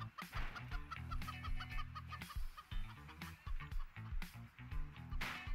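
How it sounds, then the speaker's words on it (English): Cartoonish chicken clucking from the video game Turbo Dismount 2, a busy run of short clucks and squawks repeating over game music and effects, fairly loud and continuous. "Go, chicken, cluck away!"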